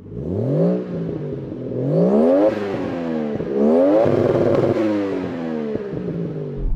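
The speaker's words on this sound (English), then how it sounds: "How about the Toyota Chaser? Let's hear you rev it." A Toyota Chaser engine is revved hard several times, each rise in pitch sweeping up and then falling back, close and loud, with a raspy clattering edge and no talk.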